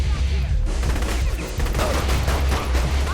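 Dense, rapid gunfire in the video game Saints Row: The Third crackles continuously throughout, loud and sustained like a fusillade, with a low rumbling background.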